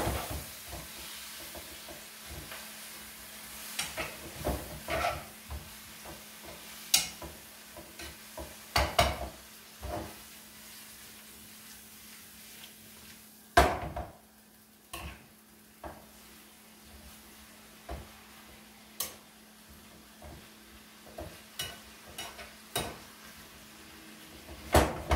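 Black pepper beef and green beans are tossed in a pan, with a soft sizzle under repeated sharp clanks and scrapes of the utensils at irregular intervals, close and without speech.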